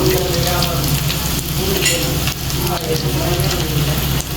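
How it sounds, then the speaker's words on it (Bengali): Chilies fry in hot oil in a pan, a loud, continuous close sizzle with light stirring, while a voice talks softly underneath. "লঙ্কাকে সুন্দর করে বেজে নিব আগে ভাজা হয়ে গিয়েছে"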